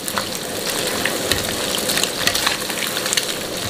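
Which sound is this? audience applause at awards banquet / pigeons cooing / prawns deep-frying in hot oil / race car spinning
prawns deep-frying in hot oil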